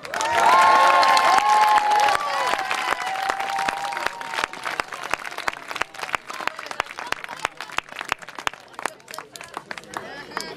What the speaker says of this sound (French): on les applaudit bien fort encore